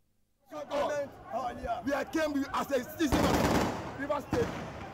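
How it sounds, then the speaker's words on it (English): Sharp bursts of gunfire crackle in quick, irregular volleys over excited talk and crowd noise, amid clashes between political supporters in Rivers State, Nigeria. "Sporadic gunfire"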